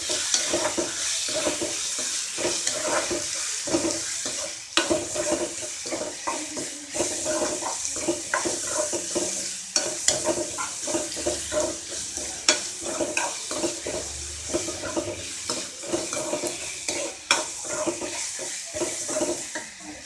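Tomatoes fry in a pan for Tamil-style egg kurma, with a steady close sizzle and repeated scraping stirs of a spoon against the pan throughout, and no talking.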